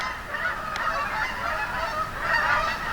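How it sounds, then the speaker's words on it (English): Geese flying overhead near Gold Mine Road in the Mount Eagle, Pennsylvania countryside, honking repeatedly in a loose chorus of calls that swell and fade slightly. "We got some geese flying overhead"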